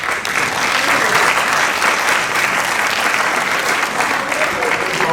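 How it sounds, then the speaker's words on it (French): A graduation ceremony audience applauding the graduating students, a loud dense sustained clapping from a crowd that continues steadily throughout. "applaudissez s'il vous plaît"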